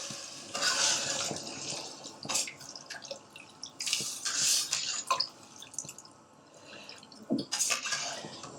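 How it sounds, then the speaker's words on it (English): Water pours and splashes onto lamb in a pot in several bursts, with drips and light clinks of metal in between, close by. "pour the half litre water onto the lamb."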